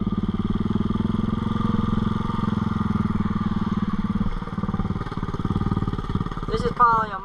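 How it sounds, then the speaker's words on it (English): A motorbike engine drives through a creek after heavy rain, a steady, close, rumbling drone that holds throughout, with a brief rougher surge near the end. "put in full drive, because I'm really not trying to sink my bike"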